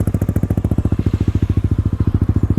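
A Yamaha Aerox scooter bored up to 200cc idles close by, its engine thumping in a fast, even pulse with a loud, throaty rumble and no talking over it.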